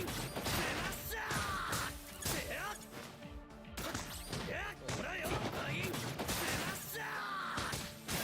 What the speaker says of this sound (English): Enemies that simply explode.